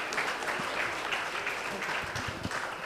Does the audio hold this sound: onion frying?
no